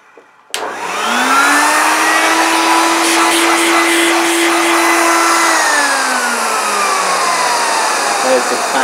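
1980s Hitachi Stowaway bagless vacuum cleaner switching on abruptly and spinning up to a loud, steady whine of fan and motor, holding close and constant before the pitch sags slightly.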